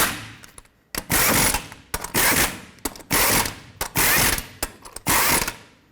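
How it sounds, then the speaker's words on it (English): A hand ratchet snugs up lug nuts on the wheel of a 2007-14 Chevy Silverado pickup, giving bursts of rapid close clicking in about six separate runs with short pauses between them. "You're going to snug them up and then torque them to 140 foot-pounds."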